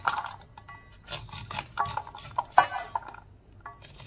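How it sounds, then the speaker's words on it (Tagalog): Fresh corn being grated by hand in a kitchen, with light scraping strokes and scattered clinks of a metal grater and bowl at an irregular pace, close and fairly quiet. "Ganito lang ako mag-gad-gad ng fresh na mais."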